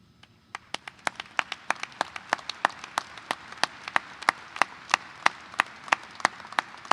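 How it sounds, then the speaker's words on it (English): At a high school graduation ceremony, spaced claps ring out steadily, one sharp crack every fraction of a second, over a soft hall murmur, with few hands joining. "please stand for a round of applause"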